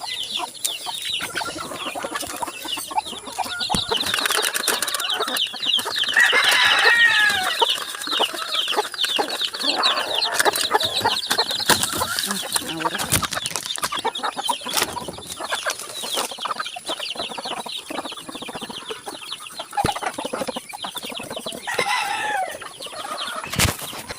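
A flock of chickens clucks and chatters continuously, with occasional wing flaps, busy and fairly close.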